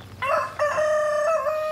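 A rooster crows loud and close among chickens, two drawn-out calls in quick succession with a wavering, strained tone and no voices.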